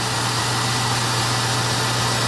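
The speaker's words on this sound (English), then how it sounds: "It appears to be running." A car engine idles steadily during an alternator charging test with a battery load tester, a loud, constant hum with a low drone and no change in pitch, no voices.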